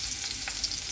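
Ginger garlic paste frying in a hot pan, a steady close sizzle with faint stirring scrapes, no voices.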